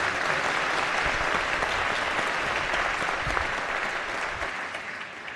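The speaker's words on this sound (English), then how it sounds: "Yes, that deserves an applause." A legislative chamber full of people applauding steadily, dense continuous clapping that stays loud throughout and tapers slightly at the end.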